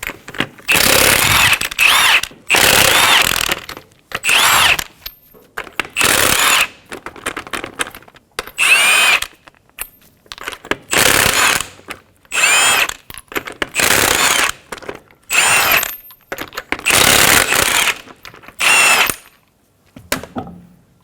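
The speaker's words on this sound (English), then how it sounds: "Using a 22mm socket, remove your lug nuts." Impact wrench or power tool spinning off the 22mm lug nuts on a Ford Expedition front wheel, in a run of loud repeated bursts of about a second each, separated by short pauses.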